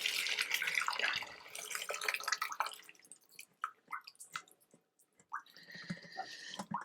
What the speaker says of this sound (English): So I'm going to strain the pasta